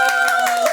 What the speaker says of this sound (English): Shamelessly clapping for myself.